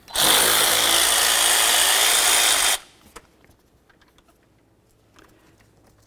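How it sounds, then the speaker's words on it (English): A power tool spins out a 10mm bolt on a 1999-2003 Chevy Silverado, a loud, even whir lasting under three seconds that then cuts off, leaving a quiet garage with a few small clicks. "Next, we're going to remove our 10mm bolt."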